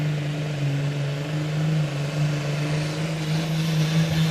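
Blue Viking pulling tractor from Sweden roaring under load during a Super Sport 4.5 t tractor pull, a sustained heavy drone with a steady low pitch, loud and unbroken.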